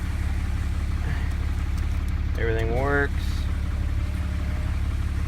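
A 2008 Dodge Ram 3500 with a 6.7 Cummins turbo diesel idles steadily and close by, a low constant rumble, while someone talks over it.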